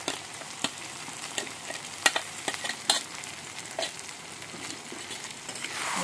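Dried shrimp fried in a pan together with onion, garlic and tomato, a soft continuous sizzle broken by sharp spatula knocks and scrapes against the pan at irregular intervals, close by and fairly quiet.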